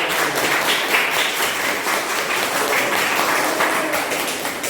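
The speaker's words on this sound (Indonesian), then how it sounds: "Kasih tepuk tangan dulu" A class group gives steady, dense clapping for a team's answer in an Islamic studies lesson, sustained at an even level throughout.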